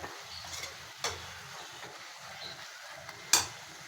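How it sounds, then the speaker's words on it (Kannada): Dill greens fry in a little oil in a home kitchen pan, giving a low, steady sizzle broken by a few sharp clinks of a utensil against the pan. "ನೋಡಿ ಇದು ಚೆನ್ನಾಗಿ ಫ್ರೈ ಆಗಲಿ ಸ್ವಲ್ಪ ಎಣ್ಣೆಯಲ್ಲಿ"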